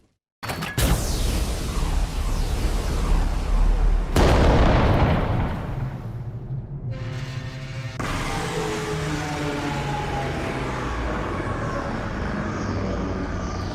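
Gunfire and artillery in a Warhammer 40k video game: a sharp blast, then a second heavy explosion, followed by a long, loud rumbling roar of continued fire and reverberation, with no voices.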